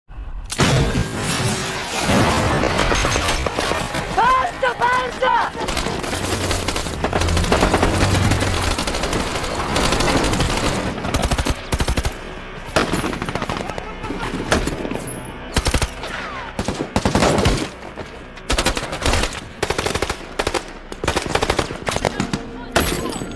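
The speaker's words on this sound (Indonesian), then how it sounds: "Walid menembak RPG-nya, namun, malah meleset dan pertempuran pun tak terhindarkan" Intense battle from the film Mosul: sustained machine-gun bursts and rifle fire, with booms and debris impacts. Dense, loud and continuous at first, then thinning into separate volleys and single shots.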